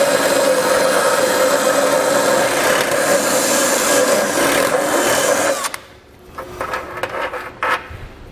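Hand tool rasping steadily to enlarge a hole in the steel frame of a 2022 Subaru Forester during a trailer hitch install, a continuous grinding scrape that stops abruptly near the end, leaving a few faint scrapes and knocks.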